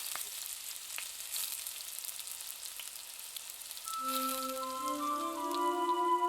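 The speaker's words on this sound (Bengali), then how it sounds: "আলুটাকে কিছুক্ষণ ধরে সময় নিয়ে ভালোভাবে ভাজতে হবে" Potatoes fry in oil for Bengali-style aloo dum with a soft, steady sizzle and occasional light ticks. Partway through, a sustained tonal hum or musical sound rises beneath the frying and continues to the end.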